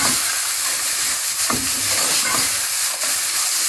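A spoon stirs chicken sandwich filling with Chinese salt and mixed herbs, giving a steady close scraping hiss broken by two soft knocks.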